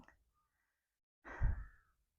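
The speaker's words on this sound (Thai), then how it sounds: "เสียงเหนื่อย หอบ" A worn-out person lets out one heavy, breathy exhale, like a tired pant, during a rice harvest in a sandy paddy field. It comes close and fairly loud after a near-silent pause, with no talking.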